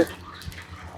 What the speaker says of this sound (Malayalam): വെള്ളം നിറയട്ടെ